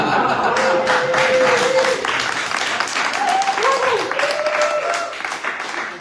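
An audience at a community lecture applauds loudly throughout, while someone talks over the clapping.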